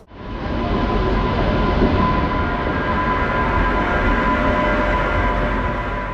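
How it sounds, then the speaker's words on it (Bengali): Amaravati Express rolling into Santragachi station at night, a loud, steady rumble of railcars with rail hiss and a faint tonal squeal running throughout, close and continuous with no voices. "11:27 ট্রেন আমাদের চলে এলো সাঁতরাগাছি স্টেশনে।"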